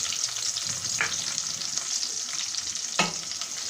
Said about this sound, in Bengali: দিয়ে দিচ্ছি 1/2 কাপের মতো পেঁয়াজ কুচি